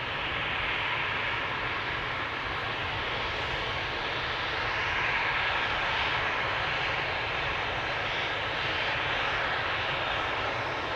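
An airplane takes off from a runway at Amsterdam Schiphol Airport, its engines making a broad, steady roar that swells slightly in the middle and fills the whole stretch without any talk.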